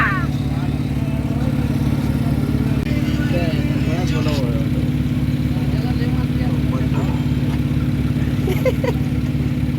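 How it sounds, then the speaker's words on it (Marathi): A generator runs steadily beside roadwork near a roadside vada pav stall in Sawantwadi, giving a loud, constant engine drone with clattering construction noise on top, while voices chatter and call out in the background. "इकडे जनरेटर चालू आहे, इकडे रस्त्याचं काम चालू आहे"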